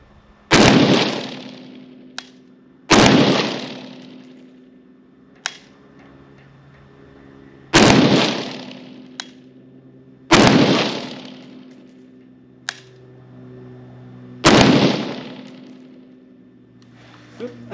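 Five loud rifle-style gunshots ring out at spaced intervals on a cold outdoor range, each followed by a lighter, delayed metallic clank from swinging steel targets.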